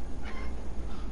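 A cat meows in a stealth game as it leaps out, one brief, close cry rising over a dense, noisy background.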